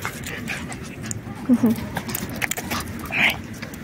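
A dog pants softly and lets out a few short, high whimpers close by, with a person speaking in the background.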